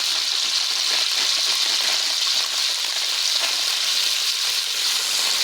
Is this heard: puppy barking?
no